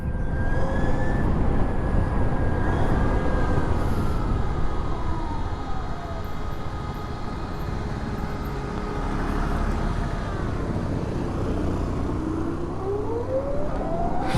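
Riding an Ather 450X electric scooter: a thin motor whine climbs and falls in pitch over a continuous rush of wind and road noise, with no one talking.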